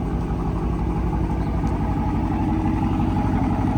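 A 2020 Dodge Charger R/T with a 5.7-litre Hemi V8 idles steadily, a dense low rumble holding even throughout with no voices.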